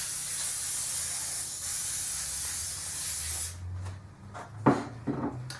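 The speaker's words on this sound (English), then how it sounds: "Just a light spray with oil." Canola oil sprayed into a muffin tin as a steady, close hissing spray lasting about three and a half seconds, then stopping, followed by a few faint knocks and rubbing handling sounds.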